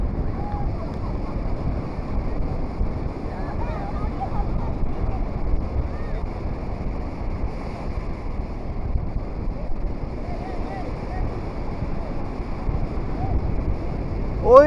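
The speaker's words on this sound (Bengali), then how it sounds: "সন্ধ্যাকালীন সমুদ্র ওই" Evening sea waves wash steadily ashore at Puri beach, a continuous broad surf roar with wind buffeting the microphone and no distinct breaks between swells.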